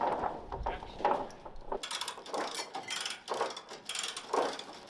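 A heavy strap is cranked tight with ratchets to haul a large load onto a trailer, giving repeated clicking, grinding bursts close by in an uneven rhythm, with faint voices in the background.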